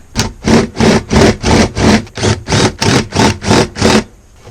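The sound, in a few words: drill with large bit widening hole in weathered plywood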